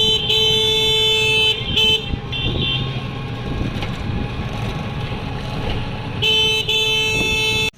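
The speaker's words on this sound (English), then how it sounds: "today I am in tuk-tuk in Kolkata" Riding in a tuk-tuk through Kolkata traffic: a steady engine drone with rushing wind, punctuated by repeated high horn toots near and far, no talking.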